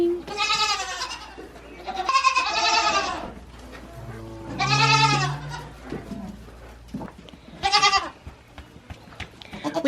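Several homestead goats bleat loudly and close by, in long wavering calls separated by short pauses, with quieter rustling between them.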